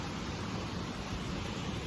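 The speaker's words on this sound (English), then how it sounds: "the waves are really coming in" Ocean surf breaks on Iceland's south coast as a steady, broad wash of crashing water. It fills the whole stretch with no pauses and no voices.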